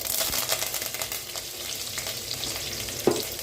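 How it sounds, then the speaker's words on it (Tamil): Green garlic, mustard seeds and curry leaves sizzle in hot oil as the tempering for a fenugreek kuzhambu, making a close, continuous crackling fry with soft stirring scrapes and one sharp knock near the end. "பச்சை பூண்டு நல்லா வதங்கி வரட்டுங்க."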